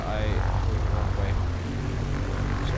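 A Mooney Bravo propeller airplane taxis along an airport runway, its engine droning steadily and loudly throughout with a pulsing low propeller beat, while a voice speaks over it.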